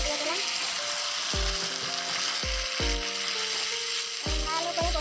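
Onion paste, ginger paste and a chopped tomato fry in a pan with a steady, close sizzle. A spatula strikes and scrapes the pan at a regular beat, roughly once a second.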